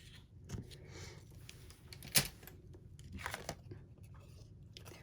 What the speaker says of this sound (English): I'm just going to bring in my ribbon scissors and cut that off